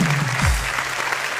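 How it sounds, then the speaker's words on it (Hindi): Audience applause after a poem recited on a comedy stage show, a steady loud wash of clapping filling the whole moment, with a low tonal hum running beneath it. "तालियां बजाइए।"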